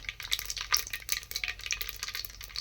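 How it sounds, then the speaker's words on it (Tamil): Mustard seeds spluttering and crackling in hot oil for a South Indian fish curry, a dense, continuous close sizzle with sharp pops and no voices. "கடுகு பொரியட்டும்"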